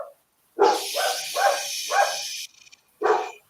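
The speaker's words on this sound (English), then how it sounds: "my dogs are still barking endlessly" Dogs barking indoors, a series of five sharp loud barks in quick rhythm, then a short pause and one more bark, close and without talk.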